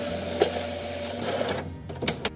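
A home inkjet or office printer whirs and clatters steadily while struggling to feed paper sheets, ending with a few clicks and mechanical knocks as the roller grabs the page.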